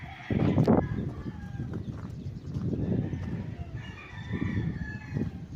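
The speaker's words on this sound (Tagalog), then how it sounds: "Meron kasing manukan yung may-ari dito mga kaprops sa may bandang likuran." Chickens and roosters on a chicken farm behind a property in Calauan, Laguna, crow and cluck at a moderate distance, with repeated calls rising over a murmuring background.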